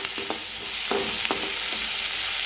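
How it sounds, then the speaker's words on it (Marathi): Chopped onions fry in a pan for cabbage manchurian, a steady close hiss of sizzling oil with a few soft spatula taps and scrapes. "कांदा लालसर होईपर्यंत आपल्याला तळून घ्यायचा आहे"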